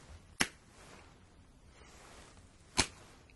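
Two crisp finger snaps close beside the ear, each sharp and isolated, about two seconds apart over a soft near-silent background.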